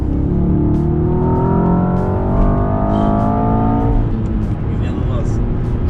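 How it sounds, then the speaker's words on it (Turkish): A Mercedes-AMG S63 E Performance accelerates hard, its engine note climbing steadily for several seconds before easing off, loud and close, with someone talking over it. "paf diye de böyle egzozdan bir patlama sesinde duydum"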